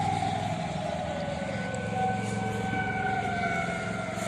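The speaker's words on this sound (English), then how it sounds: "And there I hear siren." An outdoor civil defense siren sounds its attack signal during a test, a steady wailing tone that holds and slowly drifts in pitch, loud but distant across open surroundings, with no talking.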